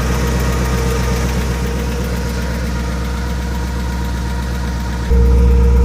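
The engine of a 1959 Pontiac Bonneville idles close by with a steady low rumble and a faint repetitive tick, growing slightly louder near the end.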